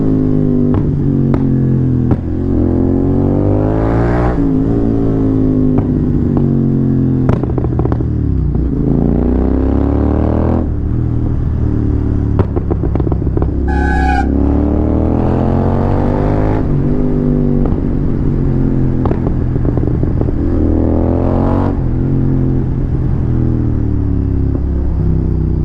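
A Royal Enfield GT 650 motorcycle running a Code 6 tune rumbles loudly and close for a long stretch, its engine note rising and falling through repeated revs and shifts, with sharp crackles and pops between pulls.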